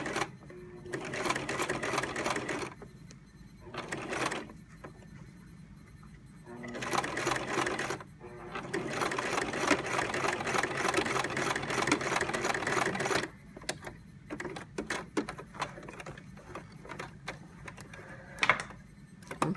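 A sewing machine stitches along the folded edge of thick fabric on a storage case, running in several separate bursts with quiet gaps between, close and without talk.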